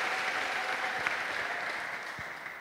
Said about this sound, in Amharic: ለጌታ ከፍ ያለ ልታ ጭብጨባ ስጡ